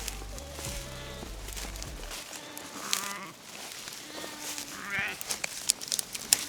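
Sheep bleat from a field where strayed farm flock animals are being rounded up, the calls mixed with wind rumble and footsteps, and a person speaking between them.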